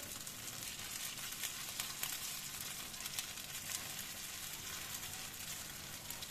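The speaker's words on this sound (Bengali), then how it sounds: "পনিরগুলো একটু উল্টে পাল্টে লাল লাল করে ভেজে নিতে হবে।" Paneer cubes fry in a pan, giving a faint, continuous sizzle with light crackles. The sound stays low and even throughout, without speech.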